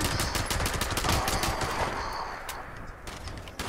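Rapid bursts of automatic gunfire in Fallout 76, dense overlapping shots crackling continuously and fairly loud, easing slightly toward the end.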